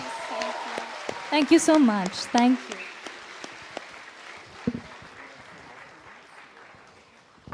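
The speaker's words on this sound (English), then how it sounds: "give a separate round of applause" Festival audience applause, a soft, scattered patter of claps under a speaker's amplified voice, thinning out into sparse, faint claps that trail away.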